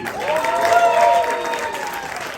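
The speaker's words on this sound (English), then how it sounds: "Make some noise for Vinny Lombardi" A comedy club crowd claps and cheers in a loud burst of applause that swells and then holds steady, with a voice calling out over it.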